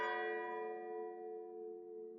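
A single church bell tone rings out and slowly decays, its rich overtones lingering steadily with no voices.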